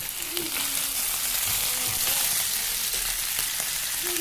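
Chillies fry in a pan with a continuous loud sizzle and crackle, joined by brief stirring scrapes and faint background voices.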